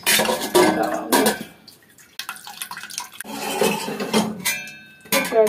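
Boiled pasta is drained: water splashes and pours in bursts while metal pots and a colander clank, with dripping between pours at close range.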